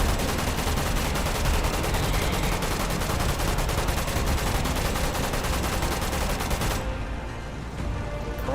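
Sustained rapid gunfire in the VR shooter Metro Awakening, a dense, loud stream of closely spaced shots that continues without pause for several seconds before easing slightly near the end.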